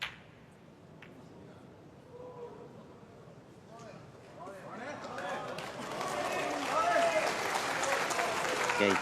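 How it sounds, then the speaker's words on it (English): Snooker crowd applause for Ronnie O'Sullivan in a 1999 final against Kyren Wilson, starting faint and swelling into steady clapping from the audience, with commentary voices underneath. "you can hear the applause from the crowd, just trying to give Ronnie some encouragement"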